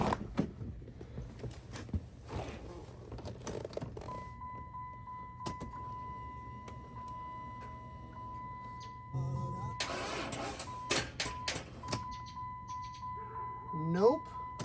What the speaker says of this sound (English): But I'm going to see if I could actually crank the car up.